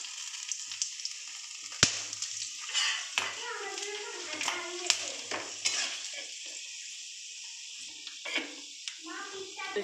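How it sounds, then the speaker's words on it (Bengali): Whole spices frying in oil for egg biryani (dried red chilli, black pepper, mace, nutmeg, cinnamon, bay leaf): a close, crackling sizzle with irregular clinks and stirring scrapes, a voice talking over part of it. "এবার আমি শুকনো লঙ্কা দিয়ে দিলাম, কালো গোলমরিচ, জয়িত্রী, জায়ফল, যা কিছু গোটা মশলা আছে সব দিয়ে দিলাম, দারচিনি, তেজপাতা,"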